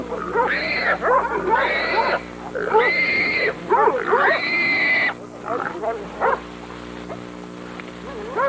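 A young hunting dog on a wild boar hunt gives loud, drawn-out whimpering yelps in several rising bursts, close by, followed by quieter whines, with some talking.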